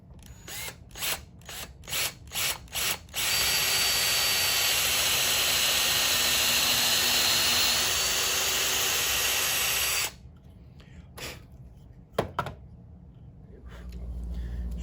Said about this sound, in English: A drill press obviously is the most ideal tool to use for this, but we're going to use a regular drill.